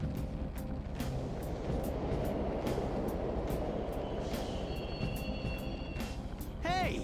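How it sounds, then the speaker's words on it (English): A subway train runs inside the video game Persona 5, a continuous rumbling roar with rattling clicks and brief high squeals, steady throughout and fairly loud. "The train's totally running."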